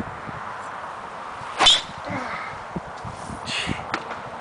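Golf driver striking a ball on a long-drive swing outdoors, one sharp loud crack standing out from a low ambient background, with faint noises afterward.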